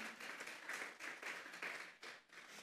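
A church congregation claps together as an offering of praise, a dense, distant-sounding patter of many hands in rolling waves that swell and ease, with no voices over it.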